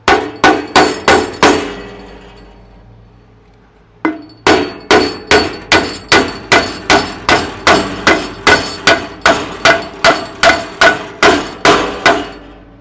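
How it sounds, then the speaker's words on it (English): Sharp, ringing strikes of a small wooden trim hammer on a Woodland Mills HM130 Max sawmill bandwheel in quick regular bursts, a short pause, then a long steady run of loud, close blows. "Baby trim hammer."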